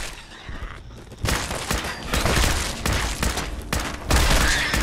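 Rapid gunfire from a firefight in the video game Fallout 4: dense, loud bursts of shots and booms crowd together, with a brief lull before the volleys resume and keep pounding.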